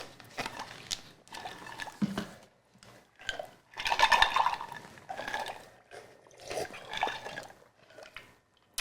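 Lemonade with zero added sugar poured quickly into a cup, a short run of splashing and trickling liquid in uneven bursts, close and fairly quiet, with no talk over it.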